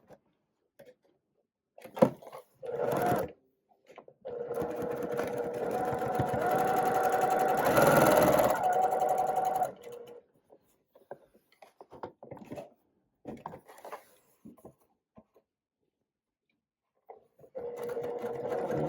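A sewing machine stitches pinwheel quilt blocks together with a quarter-inch seam, running in a loud sustained burst of several seconds, with short stop-start whirs before and after amid quiet pauses.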